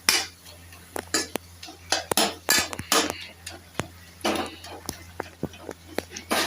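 Pumpkin leaf greens are fried and stirred on a tawa, with a rapid series of metallic spatula scrapes and clanks over a low background hum.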